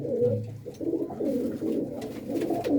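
A pigeon from an old bloodline gives close, clear low coos in a continuous rolling series with no talk over it.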